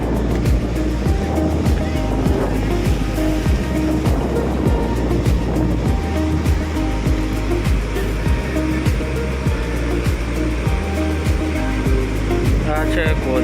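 Water rushing over a causeway bridge gives a steady, loud roar with churning low rumble throughout, like surf, with no pauses.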